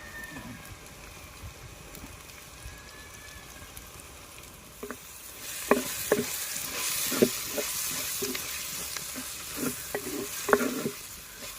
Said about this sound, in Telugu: అల్లం వెల్లుల్లి పేస్ట్ వేసుకుని కొంచెం దూరగా ఎగనిద్దాం